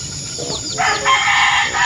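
A rooster crows loudly nearby, one rising and falling call standing out against faint background noise.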